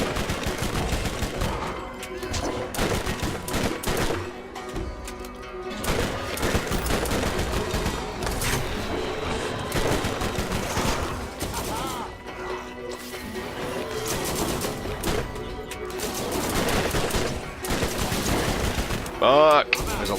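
Sustained automatic gunfire rattles almost without pause through a chaotic firefight in a first-person shooter game, loud and dense with crashing impacts, while a player occasionally speaks over the shooting.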